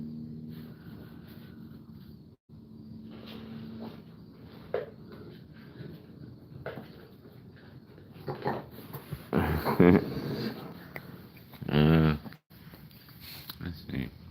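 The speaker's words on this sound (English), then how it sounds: "I'm going to teach you to bark and talk." A dog being taught to bark on command gives soft whimpers and short vocal bursts, the loudest near the end, while people talk and coax it in between.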